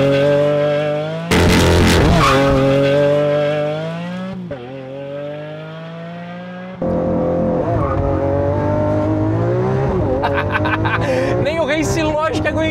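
A Lamborghini Aventador S launches from the brake at full acceleration. Its V12 roars loud and close, with rising revs, a brief drop at the gear changes and then a renewed climbing howl.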